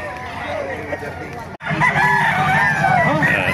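A rooster crows among other chickens at a pet market in Bocaue, with a brief drop in sound midway, over busy background noise and some voices.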